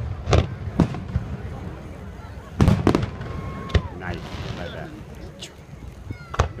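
Fireworks bursting over Charleston, South Carolina on the Fourth of July, with several loud, sharp distant booms spread out and separated by quieter crackle and crowd noise.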